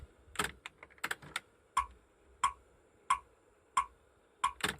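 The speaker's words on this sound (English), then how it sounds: "Click track." A click track ticks at an even tempo before a 4-track cassette recording, sharp, evenly spaced clicks following a few quick, irregular taps at the start.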